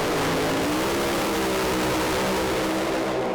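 A pro alcohol drag racing car launches off the start line at Sydney Dragway, a loud, dense engine roar that rises in pitch as it accelerates away, heard close and continuous without talk.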